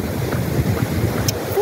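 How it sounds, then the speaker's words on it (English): Brief, steady wind buffeting a microphone on a hiking trail in Torres del Paine, Patagonia, a low rushing noise with no talking. "In the windy section"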